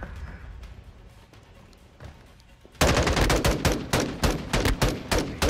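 Sniper rifle fire in Call of Duty Modern Warfare 2: quieter game ambience with faint impacts, then a sudden loud sequence of punchy shots and blasts repeating rhythmically to the end.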